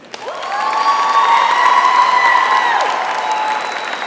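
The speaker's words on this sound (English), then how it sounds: "one more round of applause for our inductees" An audience at a university honor society induction ceremony claps and cheers for the inductees, with dense applause swelling quickly and high voices whooping over it before it eases off near the close.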